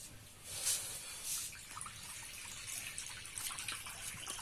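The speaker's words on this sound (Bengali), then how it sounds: "এবার কড়াইতে জল দিয়ে দেবো" Water pours into a kadai (wok) to set up steaming for dhokla, a faint, soft splashing trickle with a couple of brief louder gushes, heard alone in a quiet kitchen.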